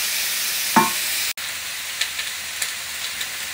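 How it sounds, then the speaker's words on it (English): Chopped onions go into a hot pan with a short sizzling burst and a sharp clatter, followed by a quiet, steady frying hiss with small pops. "So I'm going to put some onions in as a base."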